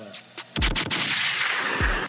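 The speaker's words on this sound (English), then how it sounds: "Gunshot for you for that" A gunshot sound effect dropped into a podcast conversation booms as a couple of heavy low thuds with a long bright crackling tail, loud and close, with no voices over it.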